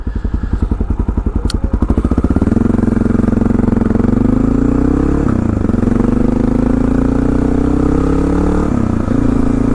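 A 2004 Honda XR650L motorcycle engine runs close by with its exhaust, a steady loud thumping idle that settles into an even drone after a brief uneven start, with no talk over it.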